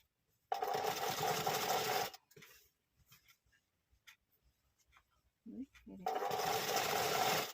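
A sewing machine stitches piping onto a blouse in two loud, steady whirring runs, close up, separated by a quiet pause filled with soft handling of fabric and small clicks.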